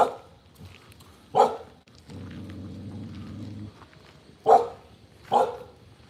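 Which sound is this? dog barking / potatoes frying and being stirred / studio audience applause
dog barking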